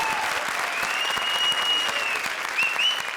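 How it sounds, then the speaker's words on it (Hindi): An audience at a televised comedy show applauds loudly and steadily throughout, with a faint whistle-like tone rising above the clapping. "जोरदार तालियां प्रिंस के लिए।"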